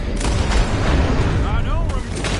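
Booming gunshots in a Red Dead Redemption 2 shootout, several heavy reports over rumbling background noise, with voices talking over part of it.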